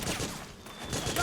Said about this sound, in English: Suppressing fire! Move!